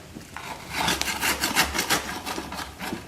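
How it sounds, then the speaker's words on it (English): A shovel scrapes and works coal down around the fire pot of a coal forge, giving repeated gritty rubbing and raking strokes in a steady rhythm, close and moderately loud with no talking. "you can use your shovel and take a shovelful and work it down the outside of the fire pot like that on both sides"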